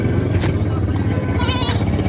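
A goat bleats at a crowded livestock market in Sindh, one wavering cry rising over a dense, loud background of market noise and engine rumble.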